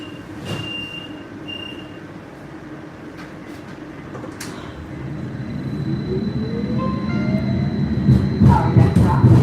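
A Milwaukee Hop M-Line streetcar rolls along its rails with a steady rumbling ride noise and an electric motor whine that rises as it speeds up, interrupted by occasional clanks and thumps.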